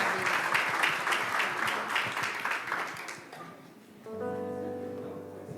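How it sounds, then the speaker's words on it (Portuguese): Church congregation applauding, a dense burst of clapping for about three seconds that fades out, followed by sustained keyboard or organ tones. "Vamos aplaudir ao Senhor?"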